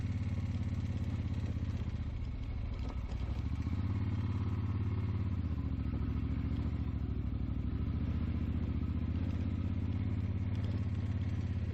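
A 1972 Eldorado motorcycle rumbles steadily while riding a rough, remote trail, with a continuous close engine drone and some clatter throughout, no talk.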